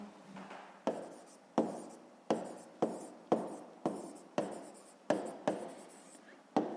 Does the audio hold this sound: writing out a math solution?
yes